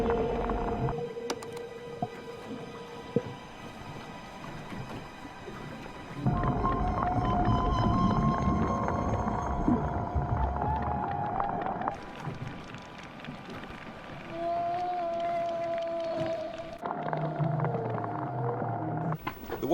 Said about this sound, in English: It's definitely a whale.